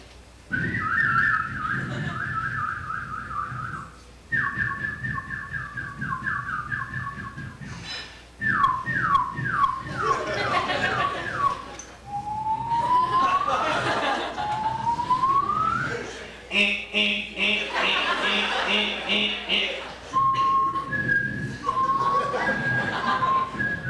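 A voice imitating a car alarm cycling through its many tones during a stand-up comedy set: whistled warbles, chirps, rising whoops and a rapid buzzing pulse, loud and close, with audience reaction mixed in.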